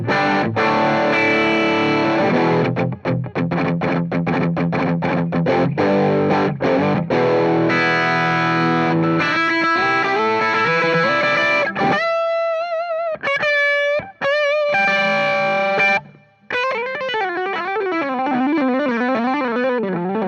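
Electric guitar through a Warm Audio Warmdrive overdrive pedal with gain fully up: fast, dense distorted chords and choppy riffs giving way to sustained, vibrato-laden lead notes, loud and alone.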